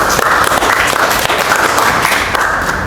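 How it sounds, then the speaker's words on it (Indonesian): Audience applause at a teacher-training performance exam session, steady dense clapping throughout, loud and continuous with no talking over it. "Silakan kita sambut dengan aplaus yang meriah lagi."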